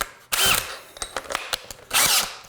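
A power drill fitted with a self-feeding auger bit, used on subfloor work, whines loudly in two short close bursts with lighter clicks and handling knocks between them.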